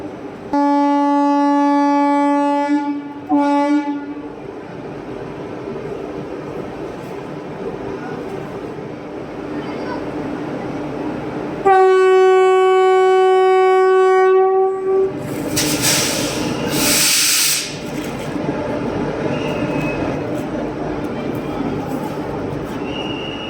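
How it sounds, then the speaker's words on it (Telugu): An express train's horn blares loudly at a station, followed by rumbling rail noise and the clatter of cars as the train pulls away; a second horn blast sounds midway. "సో నాగర్సోల్ ఎక్స్ప్రెస్ అయితే బయలుదేరడానికి టైం అయింది."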